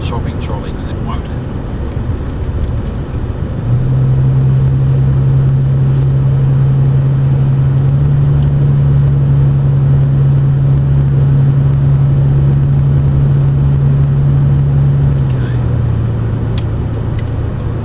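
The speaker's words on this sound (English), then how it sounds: "it's a pretty heavy car with a big motor in it around town" A heavy car with a big motor driving around town, its engine giving a steady low drone that rises in level and holds for most of the stretch, with no voices over it.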